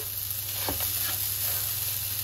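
Jaggery melting in a hot pan gives a steady, close sizzle, with a few faint stirring scrapes near the middle.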